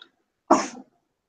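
One short, sharp sneeze from a person in a quiet room during a class meeting, near and alone, followed by silence.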